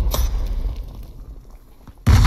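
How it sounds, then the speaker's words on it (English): A grenade blows up just beyond a wall in Hell Let Loose, a sudden loud close burst after a tense quiet stretch, with a smaller pop at the very start. "Grenade. Literally the other side of this wall."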